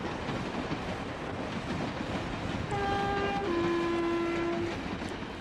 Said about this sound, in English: See the train going by.